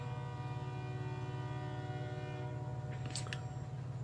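A train horn from the Forza Horizon 5 video game sounds as a long, steady, droning chord, loud and close throughout, with a couple of brief higher chirps near the end.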